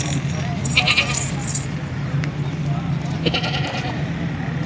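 A top-breed milking goat at a farm sale in Haripur bleats a few times at close range, its calls rising over someone talking and the rustle of other livestock.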